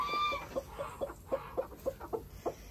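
A hen clucks steadily at her nest as eggs are taken from beneath her, giving about ten evenly spaced, close, moderately loud clucks with no talking.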